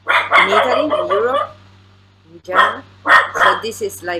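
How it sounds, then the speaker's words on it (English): Dog barking in a home, a few sharp barks mixed in with a person talking, with a brief pause between bursts of voice and barking. "sorry about my dog."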